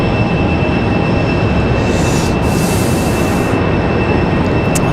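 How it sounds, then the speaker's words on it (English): A Delta Boeing 737 jet taxis out at Raleigh-Durham International Airport, heard as a loud, steady broadband engine roar with a constant high whine and wind buffeting the microphone, and no voices. "Got a Delta 737 sliding out here."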